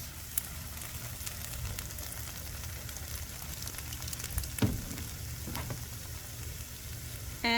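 Chicken frying in a pan with hot sauce, sriracha, honey and lime juice, giving a steady close sizzle and crackle with a few sharper pops and stirring scrapes, no voices.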